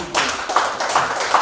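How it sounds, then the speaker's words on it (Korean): A seminar audience in a National Assembly library hall claps in agreement, a brief burst of many hands with loose rhythmic pulses, close and fairly loud. "찬성하시면 박수를 한번 주십시오."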